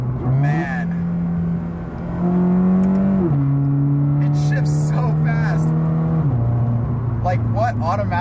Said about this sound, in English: what automatic in this price range can shift like this?